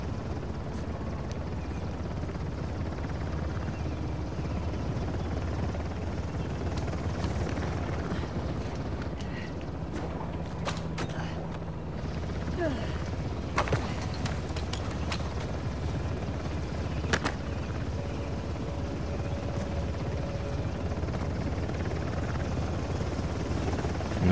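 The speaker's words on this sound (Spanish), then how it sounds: "El helicóptero nos va a ver" A helicopter in the video game Uncharted: The Lost Legacy gives off a continuous low rotor thrum that stays steady throughout, mixed with occasional clicks and thuds of game action.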